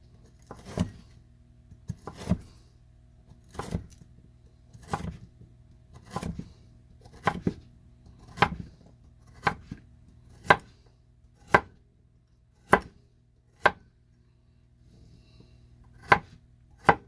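A knife chops carrots on a cutting board: about thirteen crisp, evenly spaced thuds, close and distinct against a quiet background.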